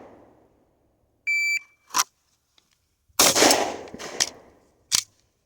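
Glock 19 pistol on a practice range: an electronic shot-timer beep, then a handful of sharp, loud gunshots in quick uneven bursts with short gaps, close by with no talking.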